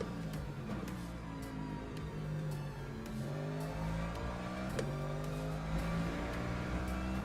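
Race car engine in the Le Mans Ultimate sim at Spa or Imola, droning steadily with rising and falling gear pitches and occasional faint clicks, heard alone at low level.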